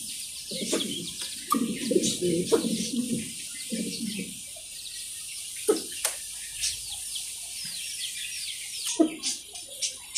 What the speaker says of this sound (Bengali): তো এইখানে আসছে আরেক জোড়া মিলি বা মুন্ডিয়ান কবুতর